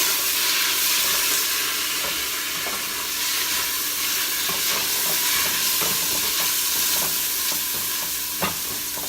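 A full spoonful of garlic sizzles steadily in a hot pot for fiesta soup, a dense, continuous frying hiss broken by occasional clicks of stirring, with no one talking.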